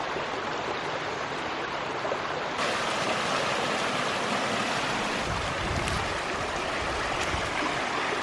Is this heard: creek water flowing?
yes